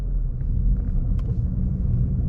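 A car engine rumbling low and steady at light throttle, heard from inside the car, with no talk.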